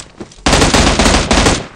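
Loud gunfire from the video game PUBG Mobile: rapid automatic bursts that start abruptly after a quiet moment and continue densely for over a second, close and punchy, with no talk over them.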